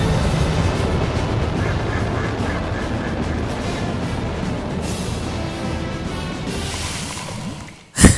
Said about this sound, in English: Yeah, get away, ducks.